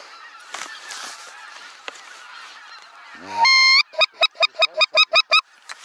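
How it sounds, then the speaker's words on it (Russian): Loud goose honking up close during a spring goose hunt over decoys: a long drawn call followed by a rapid run of about nine sharp honks, over quiet outdoor background. "Один гусь сел в чучела."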